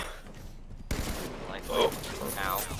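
Bursts of gunfire in the Halo 5 Forge capture-the-flag match on Sandtrap, a sharp onset of rapid shots after a quiet start, loud and close, with game effects and voices mixed in.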